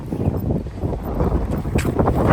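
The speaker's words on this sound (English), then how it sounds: "I don't think the wind is giving up anytime soon" Strong wind buffeting a microphone outdoors, a steady loud low roar with gusty swells throughout and no speech.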